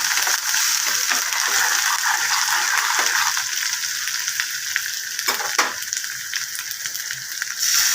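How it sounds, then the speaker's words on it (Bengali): Masala stir-fried in a pan for an egg and garlic dum dish, an even sizzle with frequent spatula scrapes and clicks against the metal, close and unbroken, with no voices. "মশলাটাকে ভালো করে কষিয়ে নেব।"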